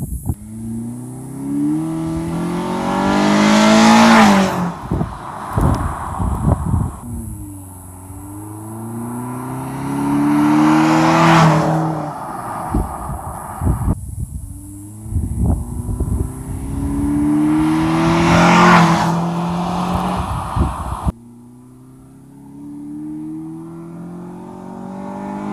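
A Honda Accord four-cylinder fitted with a Takeda Stage 2 short ram intake makes three loud flybys, each pass rising in revs and pitch and then falling away as the car recedes, with brief quieter gaps between passes.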